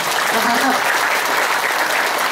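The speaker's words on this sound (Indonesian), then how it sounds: "Tepuk tangan dulu." Loud, continuous applause from a large audience, close and steady throughout, with a voice faintly mixed in.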